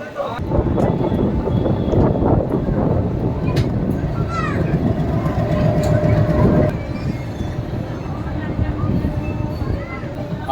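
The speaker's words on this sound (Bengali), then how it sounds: "অ্যাট লাস্ট 9:45 ছাড়লো আমাদের ট্রেন দীঘার উদ্দেশ্যে হাওড়া থেকে।" The Tamralipta Express pulls out of Howrah bound for Digha, its carriages rattling and rumbling loudly and continuously with clacking wheels and occasional squeals, while people talk over the noise.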